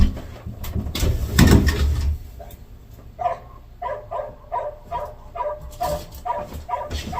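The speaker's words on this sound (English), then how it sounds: "Y'all excuse that dog outside." A dog barks outdoors from a neighbor's yard, a run of repeated short barks at a moderate distance after a louder clattering at the start, with no voices.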